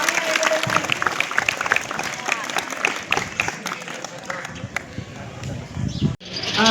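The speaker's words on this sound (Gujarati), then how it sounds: "આપણે બધા સૌપ્રથમ એમનો આવકારીએ તાળીમાં" An audience at a Bhavnagar stress-free exam programme for Class 10 and 12 students applauds to welcome a visiting doctor, with dense, sustained clapping from a crowd that stops abruptly near the end.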